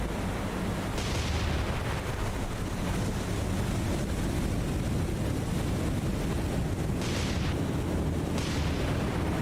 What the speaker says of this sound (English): Torpedoes have been launched.